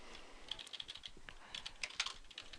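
Fingers tap out a short burst of keystrokes on a computer keyboard, a quiet, uneven patter of clicks with small pauses, close and alone with no voice.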